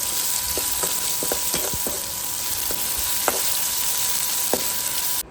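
Onion, tomato and potato fry in oil for fried rice, giving a steady close sizzle with small pops and occasional spoon clicks, no voices.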